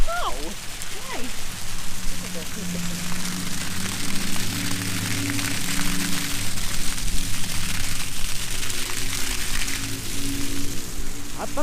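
Steady rain pours down during a hailstorm at a full-time RV family's campsite, a continuous loud hiss with patters on surfaces, while people talk throughout.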